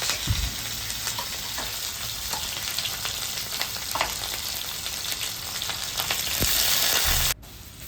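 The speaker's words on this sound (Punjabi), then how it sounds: "ਇਸ ਵਿੱਚ ਪਾਵਾਂਗੇ ਇੱਕ ਕੜਛੀ ਤੇਲ ਦੀ ਵਿੱਚ ਪਾਵਾਂਗੇ ਸ਼ਿਮਲਾ ਮਿਰਚ" Sliced capsicum frying in a ladleful of oil in a kadai, a steady loud sizzle with a few stirring scrapes, rising briefly near the end before cutting off.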